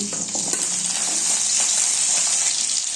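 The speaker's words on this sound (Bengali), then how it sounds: "এক এক করে সবজিগুলো দিয়ে দিচ্ছি প্রথমে দিচ্ছি আলু তারপর দিচ্ছি সিম" Potatoes and flat beans hiss and crackle as they fry in a hot pan, a steady loud sizzle with occasional stirring scrapes and no talking.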